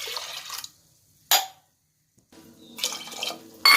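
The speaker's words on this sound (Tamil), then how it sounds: "தண்ணி சேர்த்துக்கலாம்." Water poured into toor dal for pressure-cooker cooking, arriving as a few short splashy bursts of pouring and dripping with quiet gaps between, close and fairly soft.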